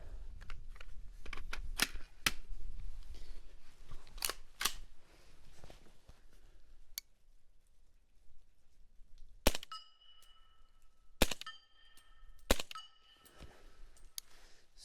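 Rifle fitted with an inexpensive holographic sight fired outdoors in snow, a few sharp, loud reports standing alone around the middle and end, with quieter handling clicks and rustling before them.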